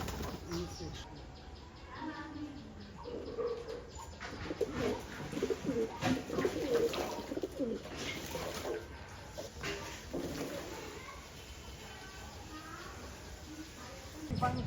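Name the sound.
pigeons bathing in water and cooing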